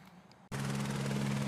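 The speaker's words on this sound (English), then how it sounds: "the chopper's about to take off" A helicopter preparing for takeoff outdoors, its engine and rotor noise cutting in abruptly after a quieter half second and then holding as a steady, loud, close whine and hum.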